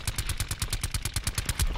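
Rapid automatic gunfire in the Blackout video game, a steady fast rattle of shots close and loud, with no talking.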